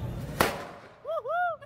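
A firecracker goes off under a bucket during Chhath Puja festivities, giving one sharp, loud bang close by, followed by a short pause and then a voice.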